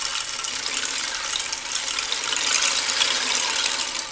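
A handheld rain drum twisted slowly, giving a steady, even hiss of countless tiny pattering beads much like falling rain, near and continuous with no voices.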